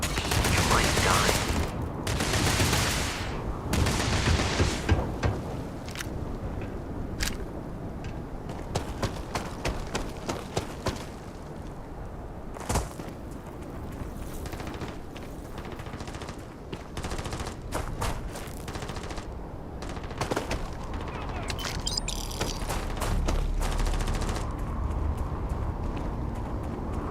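Rapid gunfire in the video game Starfield, loud bursts and single shots crackling in dense, uneven volleys throughout, with busy action sounds between them.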